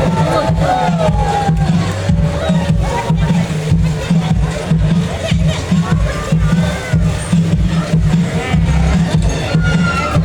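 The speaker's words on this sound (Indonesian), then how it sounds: "Kembali tepuk tangannya untuk Faya" A large crowd cheers and shouts continuously, with loud, dense roaring voices and scattered claps throughout.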